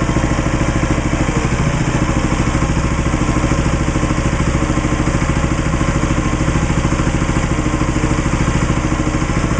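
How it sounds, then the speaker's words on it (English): A Harbor Freight 6.5 HP engine mounted on a wood splitter idles steadily, a loud continuous putter with a fast even pulse and mechanical clatter, close up and unbroken throughout. "here's the new motor, mounted, running good, very little vibration"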